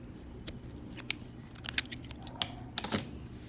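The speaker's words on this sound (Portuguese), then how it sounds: "Vou cortar aqui o excesso." Scissors snip off the excess yarn on a crocheted clutch bag made with T-shirt yarn. There are a handful of short, crisp close-up cuts at irregular intervals, with no talk over them.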